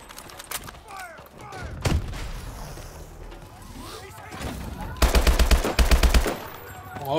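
Gunfire in Call of Duty: Advanced Warfare's single-player campaign, with scattered shots and then loud rapid machine-gun bursts near the end. Voices shout over the action.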